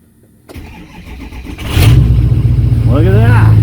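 A Ford 6.0 Powerstroke diesel truck engine with an intermittent stalling fault cranks and catches, then settles into a loud, steady rumbling idle up close, with a voice speaking briefly over it near the end.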